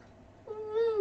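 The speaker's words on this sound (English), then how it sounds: "Cat's gonna come up now, isn't she?" A cat gives a single short, rising meow near the end, close and clear over a quiet background.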